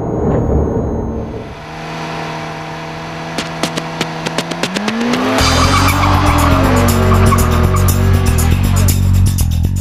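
A motorbike and a car accelerate hard side by side on a slightly damp road, engines rising loudly through the gears with brief tire squeals and a steady roar building close by.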